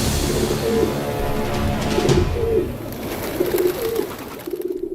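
Pigeons coo in soft, repeated throaty phrases, several close calls overlapping amid a noisy, busy background with a steady wash of sound.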